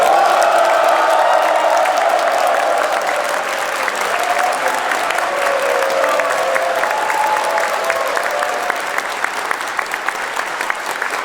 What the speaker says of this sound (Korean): 대통령 네 분의 환영을 큰 박수로, 큰 한으로 맞이해 주시기 바랍니다.